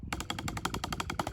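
A quick run of evenly spaced 16th-note accented drum hits moving around the kit, close and punchy, getting louder as it goes.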